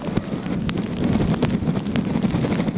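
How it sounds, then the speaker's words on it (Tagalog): Strong wind roars steadily at night in Ilocos Norte, Philippines, with gusty buffeting against the microphone, and a dense hiss of gusty driving rain runs throughout; no voices. "Malakas na ang hangin at pabugso-bugso na ang ulan ngayong gabi"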